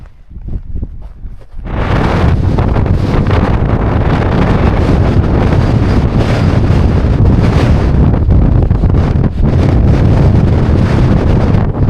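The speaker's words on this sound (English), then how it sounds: "Windy." Strong wind buffets the microphone in a loud, continuous roar after a brief quieter start, with no voices.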